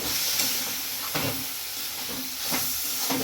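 Schezwan fried rice with a little soy sauce being stirred in a pan, giving a steady hiss and sizzle with a few soft scraping strokes of the spatula, near and moderately loud.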